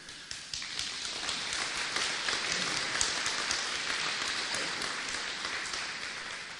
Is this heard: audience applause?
yes